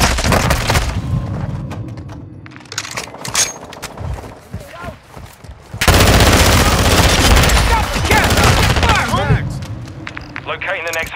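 Bursts of automatic gunfire and explosions fill a Call of Duty Modern Warfare 2 Hardpoint multiplayer match, loud and dense, with voices calling out over the battle.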